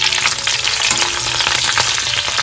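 Curry leaves and ginger-garlic paste sautéing in hot oil, a loud dense crackling sizzle that runs continuously and close up.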